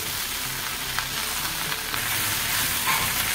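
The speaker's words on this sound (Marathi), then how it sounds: "ही तेलामध्ये थोडी परतून घ्यायची आहे भाजी, गॅस मोठा ठेवूनच" Amaranth greens sizzle and fry in hot oil over a high gas flame while being stirred, a dense, steady crackle close up with occasional scraping of the spoon and no voices.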